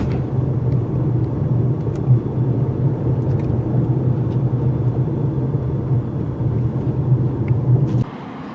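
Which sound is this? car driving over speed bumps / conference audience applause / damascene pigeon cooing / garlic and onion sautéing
car driving over speed bumps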